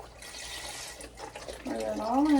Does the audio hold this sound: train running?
no